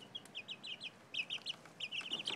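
Small chicks two to three weeks old chirp and peep indoors, a rapid run of high, bright calls in quick bursts, fairly close but soft, with no talking.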